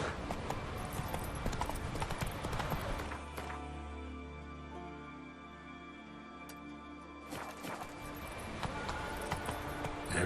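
Horse hooves clip-clop in the video game Witcher 3 (Wild Hunt, Next Gen), a brisk rhythmic trot that softens and thins for a few seconds midway, then returns at full, close strength.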